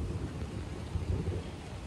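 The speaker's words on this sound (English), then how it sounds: "that's the thunder." A low, rumbling roll of thunder, muffled and distant, over the steady hiss of rain.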